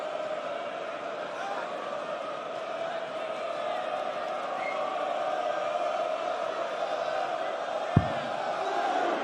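Crowd chanting and cheering at the 2023 Dutch Darts Championship, a steady, dense wall of many voices filling the arena throughout, with one brief thump near the end.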